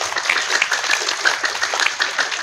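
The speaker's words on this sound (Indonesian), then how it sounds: "Tepuk tangan buat konco-konco Pagar Nusa." Audience clapping at an Indonesian religious gathering honoring Pagar Nusa pencak silat members, a brisk, fairly close patter of many hands keeping a steady level across the short stretch.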